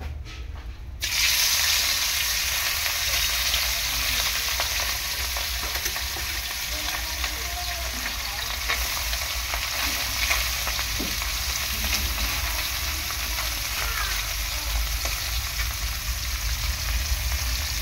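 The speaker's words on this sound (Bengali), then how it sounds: "কড়াইটা ভালো করে গরম করে নেব প্রথমে, তারপর এই যে মাছগুলো এগুলো দিয়ে দেবো।" Small river mourala fish hit hot oil in a heated kadai, setting off a loud, steady sizzle that starts abruptly after a brief quiet moment and hisses on evenly without talk.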